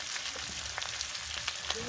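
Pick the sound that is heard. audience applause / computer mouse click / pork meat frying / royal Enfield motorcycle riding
pork meat frying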